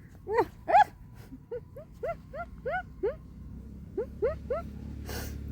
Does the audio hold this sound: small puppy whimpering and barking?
yes